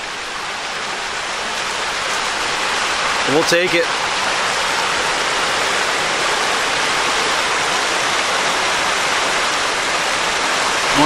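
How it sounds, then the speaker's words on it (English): Continuous splashing of a small waterfall in the Delaware Water Gap, a steady close hiss of falling water, with a brief spoken remark in the middle. "A little tiny waterfall."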